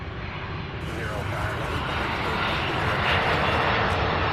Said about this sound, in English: we've got the MD-11.